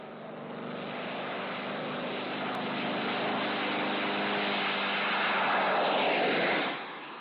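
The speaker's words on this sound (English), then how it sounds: "Jet-assisted takeoff." Aircraft taking off with jet-assisted takeoff, a loud steady roar of engine noise that swells slowly over several seconds and then drops off near the end, with no voices.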